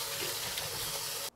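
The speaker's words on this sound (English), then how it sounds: "place the potatoes in a large saucepan and cover with water." Tap water pouring steadily into a large saucepan of potatoes, a close, full rushing stream that stops abruptly at the end.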